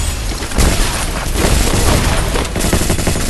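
Loud, dense gunfire from the Free Fire video game: a continuous barrage of overlapping shots and bursts with no clear breaks.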